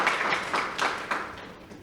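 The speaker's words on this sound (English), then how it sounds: "So let's give a round of applause to him" Applause from an audience at a college media launch event, a dense steady clatter of clapping heard alone at moderate volume.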